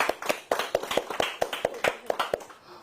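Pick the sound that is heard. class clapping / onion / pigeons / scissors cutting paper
class clapping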